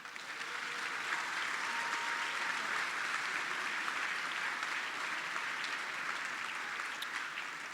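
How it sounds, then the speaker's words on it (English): A large audience at a formal school awards dinner applauds in a sustained, even wash of clapping that stays steady throughout, heard from a little distance. "I think we owe our Marmion parents and benefactors a big round of applause"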